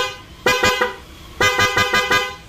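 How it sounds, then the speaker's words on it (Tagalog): Two bursts of short, loud horn honks from a Honda Click 125 scooter, a quick rapid series of toots, a pause, then another quick series, fairly close. "Busina."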